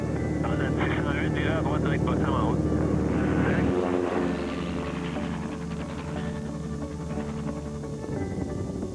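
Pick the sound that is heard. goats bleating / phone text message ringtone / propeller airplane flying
propeller airplane flying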